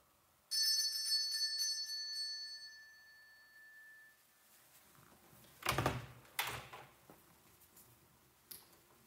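A bell rings at the headmaster's door in a school corridor, a bright sustained ring that fades over a few seconds, followed by a door opening with a few close knocks and clunks.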